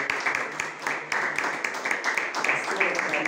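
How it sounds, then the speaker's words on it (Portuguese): A congregation at an evangelical church gathering in Portugal claps to welcome a pastor, a steady patter of applause throughout, with a voice partly over it. "Receba ela com a salva de palmas"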